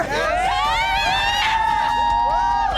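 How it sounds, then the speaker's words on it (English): An adoring street crowd in Nepal cheers and shouts at the sight of an actor, a dense wall of excited voices with high yells and whoops rising over steady babble, close and loud throughout. "We had crowds come out on the street there who were adoring crowds"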